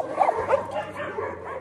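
Several dogs in a mountain kennel yard bark and whimper in a few close, overlapping bursts, with faint background noise.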